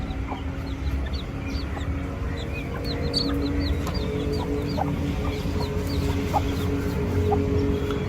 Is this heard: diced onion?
no